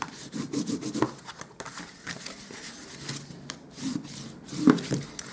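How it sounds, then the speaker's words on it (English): Scored cardstock being folded and burnished into creases for a gift box, giving soft rubbing and rasping strokes with a few sharper crisp creases, close and fairly quiet. "we're just going to burnish those, fold and burnish those score lines"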